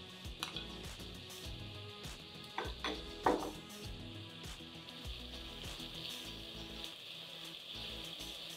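Mustard seeds crackle in hot oil with onions, giving a steady frying hiss with scattered pops and taps that grow busier for a moment, then settle back into an even sizzle.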